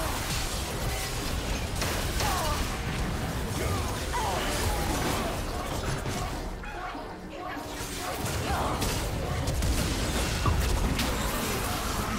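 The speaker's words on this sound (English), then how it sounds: "Red Team's turret has been destroyed." A turret crumbles during a League of Legends mid-lane match, Lissandra versus Zed at high rank: crashing, bursting impacts amid steady, dense game effects and skill sounds that fill the whole clip at an even loudness, with a brief dip near the middle.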